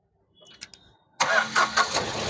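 A 2019-era style Tata Nexon XMA(S) 1.2 petrol BS6 car fires up: faint clicks first, then a loud starter crank that catches within a second and settles into a steady idle.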